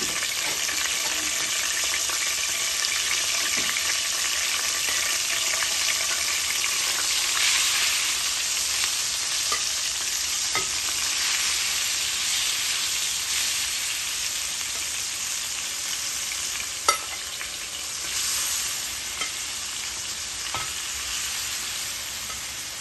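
King prawns sizzle and fry steadily in a pan of hot oil for an onion dopiaza curry, a dense continuous crackle with occasional sharper pops and stirring, no talking.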